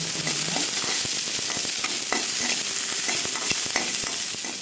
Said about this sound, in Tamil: ஆனியனும் வதக்கணுங்க வீட்டில்